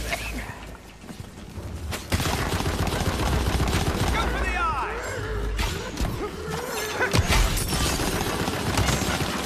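Rapid gunfire from the video game Tiny Tina's Wonderlands crackles in dense bursts with crashing impacts, loud and continuous, while voices talk over the game mix.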